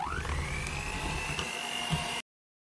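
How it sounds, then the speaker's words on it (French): An electric hand mixer runs at its lowest speed, beating cheesecake cream, with a steady close whir that rises in pitch as it starts, then cuts off abruptly before the end. "Et je reprends le batteur. Et je vais mélanger vitesse 1."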